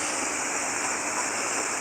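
A river fed by overflow from the Marapi crater near the Aie Angek hiking trail rushes steadily during heavy rain, a constant broadband hiss and roar of flowing water with no voices.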